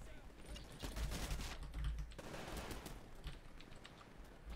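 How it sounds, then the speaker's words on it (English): Titanfall pistol gunfire comes as rapid bursts of sharp cracks from a game, layered over busy in-game noise and clicking, with the loudest run of shots in the first half. "I just sniped a guy with this pistol, basically."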